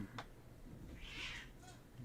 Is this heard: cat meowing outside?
yes